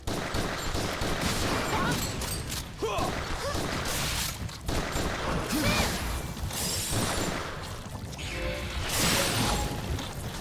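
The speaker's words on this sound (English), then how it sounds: "Huge corpse explosions." Huge corpse explosions in the video game Final Fantasy Type-0 HD go off as a run of crashing, booming blasts with whooshing swishes, loud and busy throughout with no clear speech.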